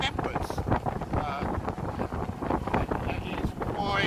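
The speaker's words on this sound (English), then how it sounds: "It is quite choppy and windy out here." Wind gusting across a sailing boat out on choppy water, a steady broadband rush with buffeting on the microphone and loud splashing throughout, with brief voices in the background.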